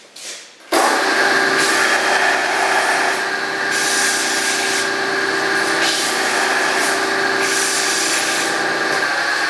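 A belt sander grinds a piece of 1/4 inch cold rolled steel, a steady loud rasping whir that starts abruptly and holds continuously, close up and without talk.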